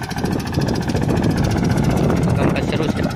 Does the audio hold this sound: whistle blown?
no